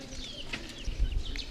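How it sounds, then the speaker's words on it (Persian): Young chicks chirp in faint, thin peeps scattered over a brief moment, with soft clucking and bird chatter nearby in a farmyard setting. "جوجه دارم برادر جوجه"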